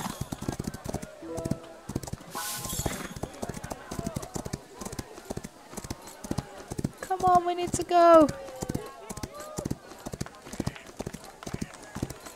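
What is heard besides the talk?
horse hooves clip-clopping in the video game Rival Stars Horse Racing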